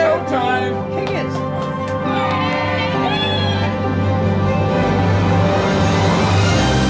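A small crowd cheers and shouts backstage shortly before a concert, excited voices and whoops mixing in a lively, continuous din close by.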